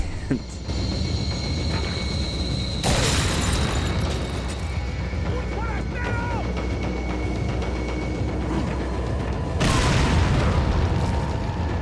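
A grenade blast in Resident Evil 4 booms across the gameplay, with one broadband burst around three seconds and a second near ten seconds over a steady rumbling game backdrop.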